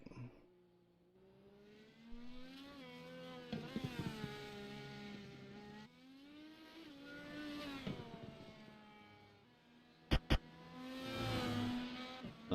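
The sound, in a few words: Indy race cars in a racing video game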